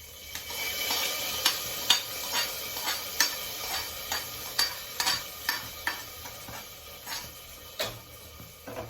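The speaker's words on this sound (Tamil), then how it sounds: "வதக்கிட்டு இப்போ இதில் பொங்கலில் கொட்டிடலாம்." A sautéed tempering sizzles as it is stirred into pongal, with steady frying hiss and a regular series of spoon scrapes and taps against the pot, close and fairly loud.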